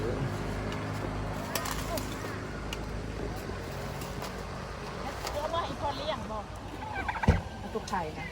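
Turkeys for sale at a Lao market gobble in short bursts through steady crowd chatter and market bustle, with one louder gobble near the end.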